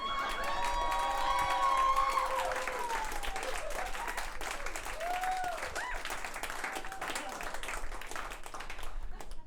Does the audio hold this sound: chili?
no